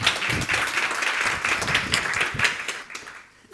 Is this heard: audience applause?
yes